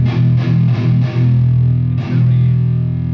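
Heavily distorted electric guitar through a Driftwood Purple Nightmare preamp playing a few short, punchy palm-muted chugs, then a sustained low chord ringing out, loud and close.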